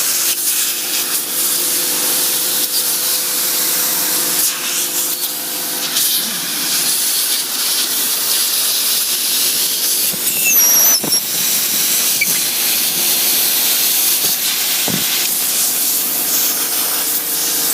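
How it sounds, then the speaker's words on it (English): Compressed air blasts steadily into the open case of a 24-inch iMac to clear out dust, a loud, constant, close hiss that runs almost unbroken with only slight dips and a few faint clicks. "it's gonna blow a lot of air in there"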